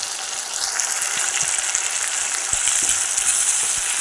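Ground tomato puree frying in oil in a cooking pan for a chicken gravy gives a steady, close, continuous sizzle with soft crackles throughout, no voices.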